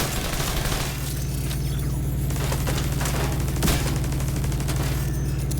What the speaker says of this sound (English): Alright, turret, go ahead and shoot it.